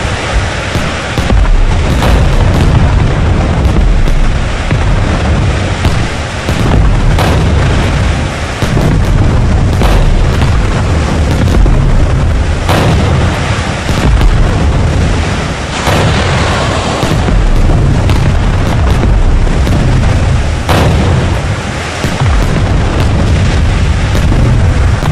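A UAV strike on enemy tanks in the video game Maroon Berets: 2030 sets off a long, loud barrage of rumbling explosions and booming impacts, one after another with no letup.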